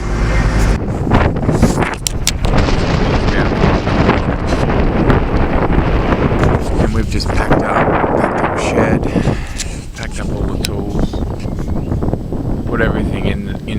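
Strong stormy wind gusts roar outdoors beside two sheds, loud and continuous, buffeting the microphone with heavy rumbling throughout.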